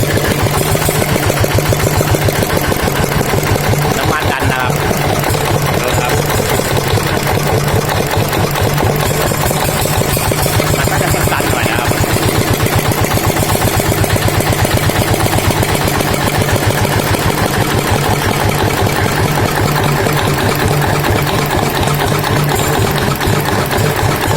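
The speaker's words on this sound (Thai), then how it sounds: "เดี๋ยวเราจะทำการติดเครื่องให้ชมกันนะครั บนี่ติดเครื่องแล้วนะครับ" A Kubota ET95 diesel engine runs after starting, a loud, steady, rapid mechanical chugging that holds constant throughout at close range.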